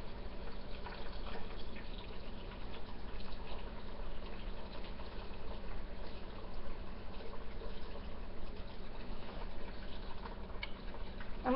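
Chicken broth is poured into a soup pot of stuffed pepper soup in a home kitchen, a steady faint liquid splash and trickle running continuously for about twelve seconds.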